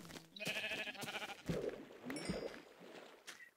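A sheep in the video game Minecraft gives several wavering bleats in a row, clear and close, with no talking over them.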